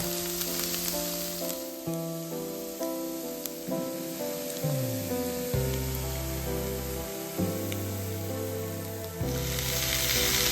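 Turmeric and chili powder fry in a pan for a bitter gourd dish, giving a steady hissing sizzle under a continuous layer of melodic background music.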